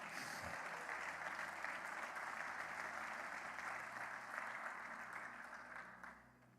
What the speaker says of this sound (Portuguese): Você pode aplaudir a palavra do Senhor?